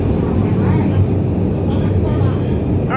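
A Shenzhen Metro Line 9 CRRC train runs steadily between Chegongmiao and Shenzhen Bay, a continuous loud low rumble and rolling drone throughout, with a faint brighter rise near the end.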